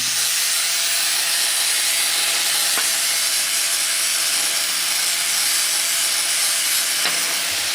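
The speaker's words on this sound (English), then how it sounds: "While she's grinding away." Steady, loud grinding on metal mounts during a Toyota Tacoma truck build, a harsh continuous hiss that never lets up, with a couple of faint knocks in the background.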